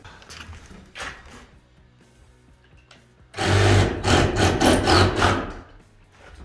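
A power saw whines loudly through a wooden board for a few seconds while building an off-grid cabin, after a quieter stretch of knocks and workshop noise.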